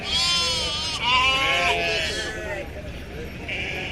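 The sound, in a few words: sheep bleating at a market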